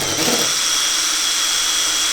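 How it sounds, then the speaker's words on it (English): A power drill runs steadily while boring a hole through a car bumper on a GT86 project, a loud, close, continuous high whine with no talk. "as you're drilling,"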